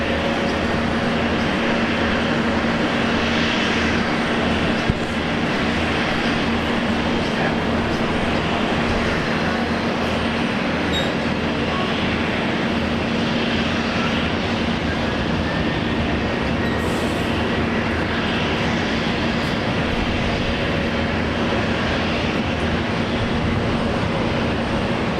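Velocity airliner on its takeoff roll from runway 01 right at Brisbane Airport, a steady, loud, broadband jet roar sustained throughout with no voices.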